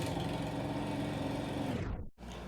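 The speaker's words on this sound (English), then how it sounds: "Now my dad starts mowing the lawn. There is no winning with this sound." A lawn mower drones steadily outdoors, a muffled, continuous engine hum heard from indoors, then cuts off abruptly with a brief gap before a low background resumes.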